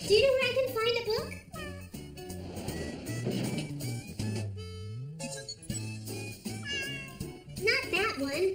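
A kitten meowing in a dubbed cartoon, rising mewing calls mixed with a voice talking and a light tinkle of music throughout.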